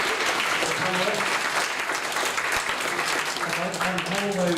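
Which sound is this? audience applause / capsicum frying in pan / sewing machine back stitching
audience applause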